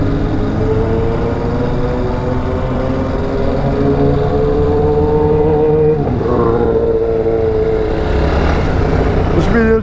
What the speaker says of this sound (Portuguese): Os caras estão acelerando.